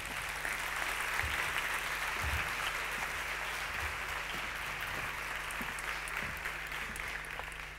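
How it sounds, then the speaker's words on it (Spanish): Audience applause at a talk on women aviators and STEM, a sustained, fairly faint wash of clapping from a crowd, even and continuous for the whole stretch with no voices. "Fuerte aplauso para Vanessa de Velasco."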